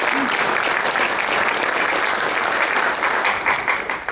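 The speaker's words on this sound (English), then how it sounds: "a round of applause for Ashley, if you could." An audience at a talk on mine site remediation gives a sustained round of applause, a dense, even wash of clapping that holds steady and then begins to thin out near the end.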